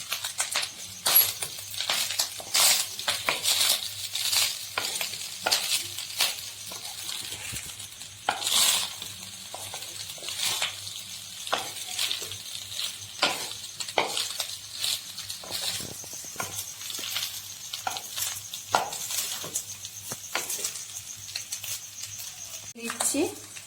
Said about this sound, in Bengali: ভালো করে নেড়ে